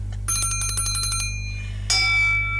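A bell rung to open a debate on marriage and personal happiness, heard as two bright metallic rings: a rapid trilling burst followed by a single ringing strike that decays, loud and alone over a steady low hum.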